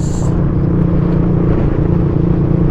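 A motorcycle engine runs steadily and close by on a dusty, winding dirt road, its low rumbling drone holding even with no pause throughout.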